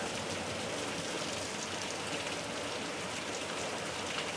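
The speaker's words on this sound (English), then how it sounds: "sure is raining" Heavy January rain pours steadily onto a cabana roof, a dense hiss of drops hitting surfaces with no pauses and no voices.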